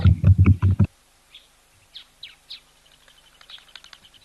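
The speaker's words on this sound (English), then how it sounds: "Our doves are coming in for evening drinks" Birds calling at an African waterhole in the evening, where doves come in to drink: a loud burst of close, rapid calls, then scattered faint chirps and tweets further off in quiet surroundings.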